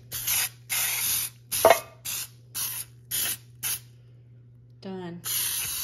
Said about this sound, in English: I use the Baker's Joy spray, which is great for greasing the pans.